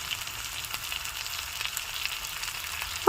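Steady soft sizzle of palak chicken masala frying in oil with turmeric added, a faint continuous crackle with light stirring, no talking.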